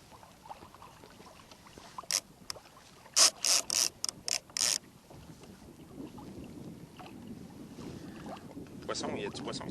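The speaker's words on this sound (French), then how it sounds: "je rouvre le moulinet pour me permettre de libérer" A fishing reel ratchet on a kayak downrigger releases line in several quick clicking bursts, close and crisp over soft water and wind ambience, with someone speaking French lightly around it.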